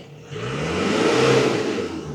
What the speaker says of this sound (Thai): แล้วเราเราลองเร่งเครื่องฟรีดูก่อน ครั้งหนึ่งก่อนว่ามันเร่งได้ไหม